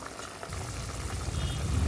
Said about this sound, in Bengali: দেখুন ঝোলটা ফুটে গেছে এখন চারটে ছোটো এলাচ দিয়ে কিছুক্ষণ ফুটিয়ে নেব